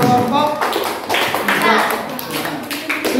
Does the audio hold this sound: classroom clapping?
yes